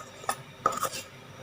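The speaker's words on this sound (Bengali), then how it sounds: "তো আমি এখানে চামচে করে জাস্ট আস্তে আস্তে জলটা নিয়ে নিচ্ছি আর মেশাতে থাকছি।" A spoon stirring face mask paste with water in a small bowl, making two or three quick light clinks and scrapes close up, brief and fairly quiet, with no voices.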